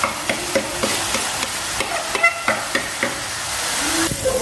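Masala spices frying in oil in a home kitchen for chicken shawarma, a steady close sizzle and hiss with intermittent clinks and scrapes as the pan is stirred.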